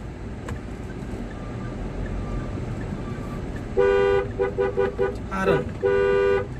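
A Mahindra Thar's horn honks in a burst of short, loud blasts followed by one longer blare, sharp and close over a quiet cabin hum.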